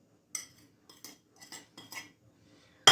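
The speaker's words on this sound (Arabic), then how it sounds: "وهقلبهم كويس جدا" A metal spoon clinks against a bowl while mustard, ketchup, spices and demi-glace are stirred together as a marinade for charcoal-grilled chicken: several quiet scraping strokes, each with a light clatter, then a sharper knock at the end.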